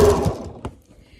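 A sewing machine stitches down quilt binding in a brief, close burst of mechanical whirring that fades quickly, with one short clack near the end.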